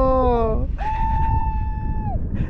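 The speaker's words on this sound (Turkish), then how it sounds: "En çok o bağırdı." A person on a sandboard lets out a long, sustained scream while sliding down a desert dune at Huacachina, Peru, heard over steady wind rumble, followed by a shorter voiced cry.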